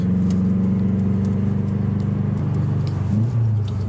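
A 500 hp Subaru Impreza WRX STi, its exhaust fitted with several extra welded-in mufflers, gives a steady, close, low engine rumble that shifts briefly near the end.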